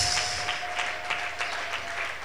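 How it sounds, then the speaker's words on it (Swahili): Brief round of clapping from a church congregation, moderately loud with scattered sharper claps, over a faint steady electronic tone. "Hebu piga makofi ya shangwe."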